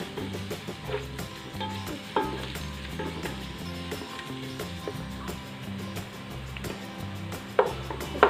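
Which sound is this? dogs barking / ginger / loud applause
ginger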